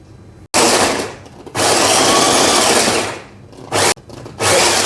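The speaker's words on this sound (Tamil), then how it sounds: "ஸோ இது வந்து போரோசில் சாப்பர்." A Borosil chopper chops onion in loud, close bursts of whirring and rattling, separated by brief pauses.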